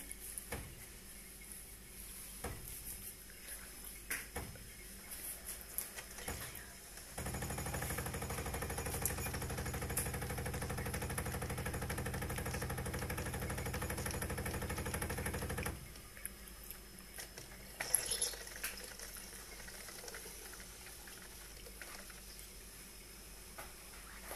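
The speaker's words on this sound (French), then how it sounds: "nous appuyons sur le bouton pour faire commencer et démarrer la machine" A Tassimo T20 pod coffee machine brews with a steady pumping hum and hiss lasting about nine seconds, starting abruptly after quiet clicks and stopping sharply, followed by faint handling noises.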